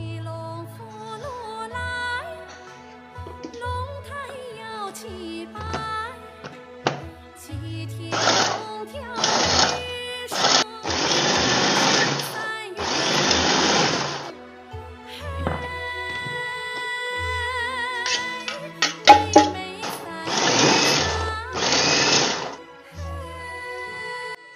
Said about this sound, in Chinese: 我们还是用这个破壁机直接打。